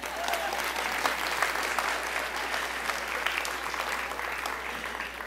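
An audience at an evening talk on positive thinking claps hands together in a sustained, even burst of applause from many people, with a low steady hum underneath.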